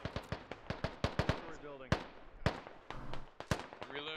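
In a multiplayer shooter game, a frag grenade bursts amid a rapid string of sharp gunfire-like pops and impacts, with a player talking over the action.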